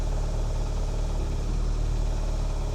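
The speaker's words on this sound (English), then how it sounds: "it's making a weird noise with the clutch actually" An Audi S1 engine with a clutch fault makes a steady, close, droning hum that holds a constant level throughout, with no talking.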